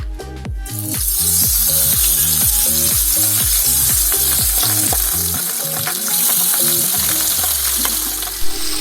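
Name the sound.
Pabda fish frying in hot oil in a wok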